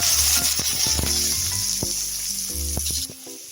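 Vegetarian ingredients fry with salt in a hot pan for a banana plant stem dish, giving a steady close sizzle with scattered spatula scrapes and stirs throughout, easing off near the end.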